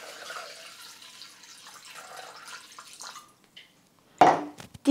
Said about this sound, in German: jetzt geben wir in den gespülten Mixtopf 500 Gramm Wasser ungefähr.